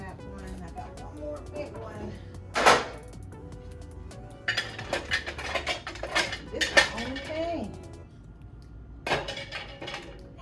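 Pot lids set one by one into the slots of a kitchen cabinet organizer: repeated close metallic clanks, clinks and rattles in irregular bursts, with some talking in the background.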